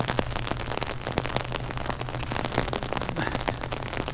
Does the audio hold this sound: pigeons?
no